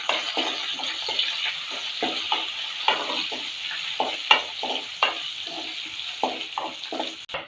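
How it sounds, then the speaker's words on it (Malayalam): Cumin, asafoetida and curry leaves fry in hot oil for a tomato dal tempering, a steady sizzle broken by repeated scraping stirs of a spoon against the pan, close and fairly loud throughout. "1/2 ടീസ്പൂൺ ജീരകം, 1/4 ടീസ്പൂൺ കായം, കുറച്ച് കറിവേപ്പില കൂടി ചേർത്ത് നല്ലോണം ഫ്രൈ ആക്കി എടുക്കാം"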